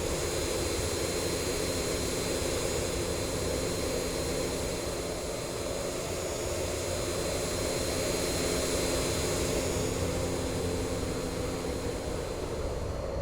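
The jet engines of an MD-80 in X-Plane 11 roar through a steady climb, a loud and even cabin drone with a faint high whine that holds unbroken throughout.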